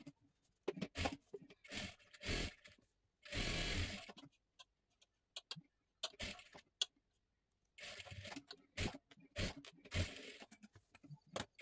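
A sewing machine stitches blouse fabric in loud bursts of rapid mechanical whirring, with short pauses between runs and one longer stretch of steady sewing, close up, with no talking.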